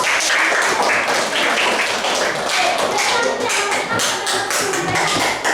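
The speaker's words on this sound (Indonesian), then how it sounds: "Tepuk tangan buat Mbak Rita." Students in a classroom clap for a classmate with loud, dense, close-up clapping that runs steadily throughout, with a few voices faintly mixed in.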